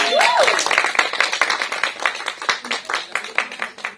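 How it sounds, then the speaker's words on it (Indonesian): A crowd gathered for a film pre-production launch at a local cinema claps hands in quick, fairly close claps that grow more scattered toward the end, with a voice briefly heard near the start. "mungkin yang belakang tepuk tangan boleh"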